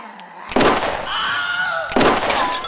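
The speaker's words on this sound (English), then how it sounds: "Line up your shot, pull the trigger." A stage gun fires during a live theatre production of Night of the Living Dead: two loud, sharp bangs about a second and a half apart, with other sound from the stage between them.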